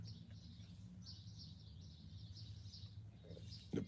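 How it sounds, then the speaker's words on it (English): Birds chirp outdoors in a steady series of high calls, faint and continuous over a low hum, with a brief louder knock near the end. "The birds is out today."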